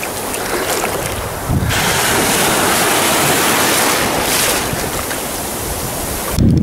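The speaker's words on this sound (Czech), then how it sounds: "Vlny, vlny." Sea waves surge and hiss continuously under strong wind buffeting the microphone, a steady loud wash of surf with a few heavier gusts, no talk.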